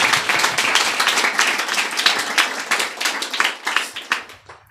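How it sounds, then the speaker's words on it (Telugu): A church congregation at a Sunday service claps loudly and fast in a dense, sustained burst of applause that fades out at the end, with no voices over it. "ఒక్కసారి చప్పట్లు కొడదాం గట్టిగా"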